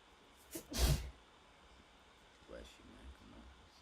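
A single loud, close sneeze bursts out, followed by quieter talking in a room during a live trading podcast.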